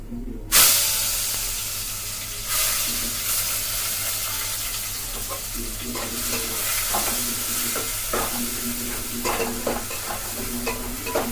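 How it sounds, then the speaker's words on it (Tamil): Onions frying in hot oil with curry leaves in a pan for a Tamil brinjal kulambu, a loud burst of sizzle as they drop in, then continuous crackling hiss with rhythmic scraping stirs, close and without speech. "நல்லா வதங்கட்டும்"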